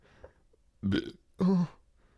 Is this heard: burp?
yes